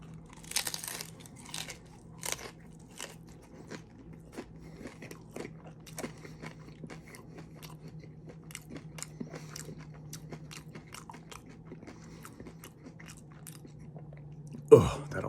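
Crunchy Jack in the Box tacos being bitten and chewed up close, a steady run of crisp crackling bites and chews over a low hum, with a louder sharp crunch near the end.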